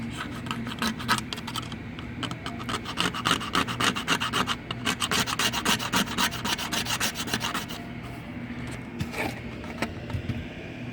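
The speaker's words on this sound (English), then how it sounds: "You can see we're getting that glue scraped off in there" Old glue is scraped off a 1964 Gretsch drum shell in quick, repeated rasping strokes, steady and close, then slower scattered scrapes toward the end; no voices.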